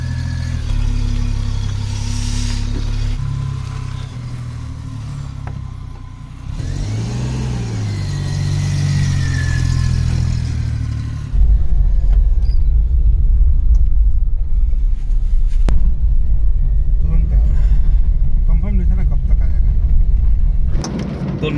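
A Maruti van engine rumbles and then pulls away, a loud, steady low drone that rises as it drives off on a cold night, with people talking inside.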